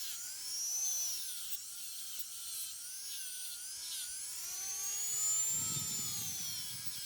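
High-pitched whine of a rotary tool stripping black paint from the front grill of a Hot Wheels '69 Dodge Charger, its pitch wavering as pressure changes, continuous and close, with a brief gritty grinding near the end.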